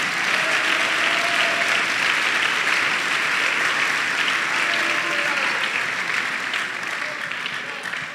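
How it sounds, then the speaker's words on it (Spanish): A church congregation applauds loudly and steadily during a sermon, a dense, sustained roar of many clapping hands that carries on evenly for several seconds and tapers slightly at the end. "Si le va a aplaudir, apláudale fuerte a él, hermano."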